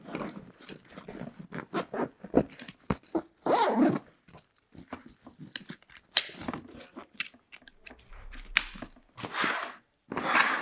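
Two-way zipper on an Eberlestock Bang-Bang transport bag being drawn open and shut in a run of short, close, crisp rasping strokes, separated by brief pauses and light handling clatter, with no talking.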